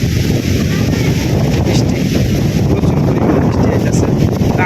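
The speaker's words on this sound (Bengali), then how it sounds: "যেরকম বাতাস আইতেছে এরকম বৃষ্টি হইতেছে" Loud, dense roar of heavy rain driven by strong gusting wind, buffeting the microphone continuously throughout.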